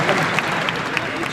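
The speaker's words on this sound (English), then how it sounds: "we can clap for Ruben too" Brief burst of audience applause for Texas A&M player Ruben Owens, a dense patter of clapping heard close, with a voice speaking over it.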